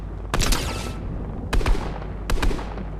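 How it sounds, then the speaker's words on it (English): Three short bursts of gunfire from a battle royale video game, each a rapid cluster of sharp shots spaced about a second apart over a low background rumble. "I hear gunshots but don't know exactly what they are."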